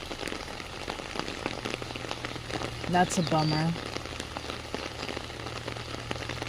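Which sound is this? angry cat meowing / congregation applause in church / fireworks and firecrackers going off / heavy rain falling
heavy rain falling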